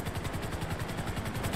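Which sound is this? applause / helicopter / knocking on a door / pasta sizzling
helicopter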